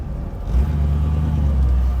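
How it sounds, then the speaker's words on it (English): A Dodge W200 truck with a wide-range four-speed gearbox drives in third gear, a loud, close, steady low engine rumble that swells slightly and holds. "This thing's got a super wide range 4-speed in it"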